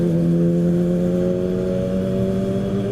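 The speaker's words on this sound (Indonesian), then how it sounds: "Wih, motor keren banget suaranya itu." A Ducati motorcycle on a road toward Bogor revs with a steady, droning engine note that holds loud and close for a few seconds as it passes, with no talking.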